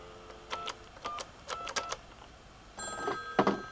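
Telephone line tones after dialing on a call-waiting setup: a series of short tone bursts and clicks, then a busier electronic signal with layered tones near the end, fairly clear with no talk.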